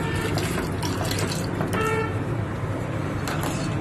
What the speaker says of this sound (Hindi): ये पानी डालने लगा हूँ।